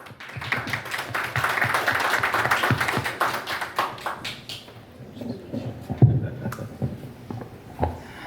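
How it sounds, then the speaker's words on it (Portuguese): An audience at a round-table panel on cooperative management claps in a moderate burst that fades to scattered taps and faint voices, with a louder knock near the end. "Uma salva de palmas a todos."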